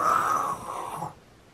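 A single close snore, a raspy wheezing inhale that fades out after about a second.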